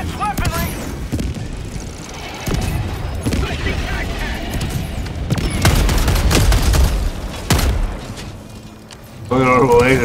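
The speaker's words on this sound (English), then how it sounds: "Look at an orbital laser, just shooting everything." Orbital laser strike in Helldivers 2, a sustained roaring blast with heavy booms and rapid gunfire crackling around it, loud and continuous, with players talking over the din.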